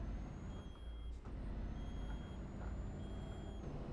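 In Euro Truck Simulator 2, a truck's hydraulics hiss with a sharp burst of air amid a low engine rumble, while a thin repeating tone sounds faintly alongside.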